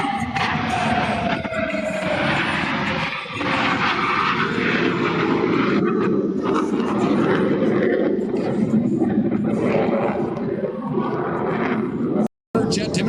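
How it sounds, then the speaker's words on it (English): Jet aircraft at an airshow approaching in carrier landing configuration, a loud continuous engine roar filling the whole clip with steady broadband rumble, steady throughout with a brief gap near the end. "both aircraft are in the carrier landing configuration as they approach for a maneuver we call the Fortus"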